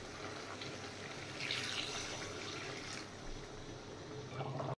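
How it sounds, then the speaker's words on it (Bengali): Water poured into a cooking pot of katla fish curry, a steady close splashing and trickling hiss that swells briefly midway and then carries on evenly. "আর একটু জল দিয়ে দেব।"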